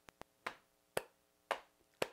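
Slap clapping in a children's song, heard as two quick light snaps followed by four evenly spaced sharp slaps about half a second apart, close and clear with no talking.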